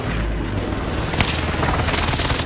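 Rapid bursts of gunfire in the Warzone battle royale video game, dense and rumbling with a sharp crack in the middle, alongside low engine-like drone.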